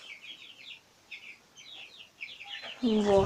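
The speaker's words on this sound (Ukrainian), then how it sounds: "І отут дорослі кури." Chickens cluck and chirp in short repeated bursts at moderate distance, then a voice speaks briefly near the end.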